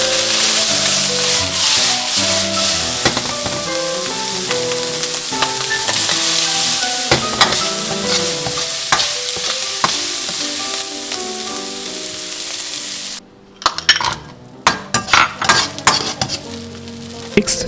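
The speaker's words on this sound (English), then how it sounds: "We start by cooking the diced prawns first. Cook them until lightly browned and just cook through," Diced prawns stir frying in a pan for egg fried rice: loud continuous sizzling with scraping and clinks of a utensil stirring, a brief break near the end, then sharper intermittent sizzles and scrapes.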